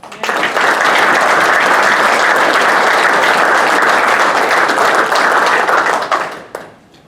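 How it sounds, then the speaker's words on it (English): Audience applause at the 2025 RSPA Southern Awards and Hall of Fame ceremony, a loud, dense, sustained round of clapping from a large crowd that holds steady before tapering off near the end. "So another round of applause, please"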